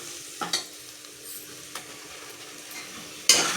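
Onions with ginger garlic paste sauté in a pan for black channa kuruma, a low steady sizzle broken by a few sharp stirring scrapes and knocks near the start and a louder clatter at the end, with no speech.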